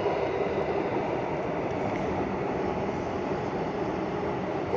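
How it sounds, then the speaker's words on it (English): A train passes at a skate spot, a steady, loud rumbling roar that fills the whole stretch without letting up and with no talking over it. "You want to see the train? Train's coming."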